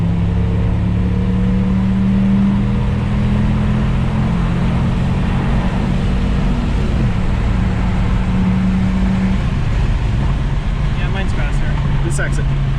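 Audi S6 Avant C4 with a 20-valve turbo five-cylinder and new exhaust pulls onto a freeway, a steady droning engine hum with a sustained tone that later drops, heard from inside the car.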